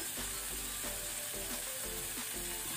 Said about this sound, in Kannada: ಇದನ್ನು ಸಹ ಒಂದು 1 ಮಿನಿಟ್ ಫ್ರೈ ಮಾಡ್ಕೊಳ್ಳಿ ಮೀಡಿಯಂ ಫ್ಲೇಮಲ್ಲಿ.